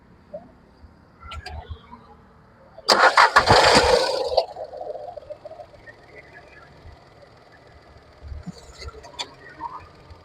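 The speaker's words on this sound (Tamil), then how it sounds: "இப்போ வண்டியோட இன்ஜின் சவுண்டு எப்படி இருக்குது அப்படின்றத லைவாக கேட்டுருவோம்" A Volkswagen Polo engine cranks and catches with a loud roar, then settles to a quiet idle with faint voices and small clicks around it.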